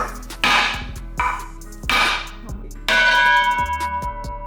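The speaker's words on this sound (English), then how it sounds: "a sledgehammer, and tap around the lug holes on the face evenly" A sledgehammer lightly taps around the lug holes on the face of a three-piece SSR Minerva wheel, giving four loud, ringing metallic strikes that each decay slowly like a bell, close to the listener with no talk.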